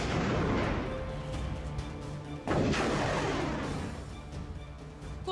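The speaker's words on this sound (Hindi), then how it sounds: "कुर्रम सुरक्षा चौकी पर भीषण फायरिंग।" Heavy gunfire rumbles at the Kurram security post in Khyber Pakhtunkhwa during a TTP attack. Dense booming shots and echoes roll on continuously, with one sharp, loud blast about halfway through.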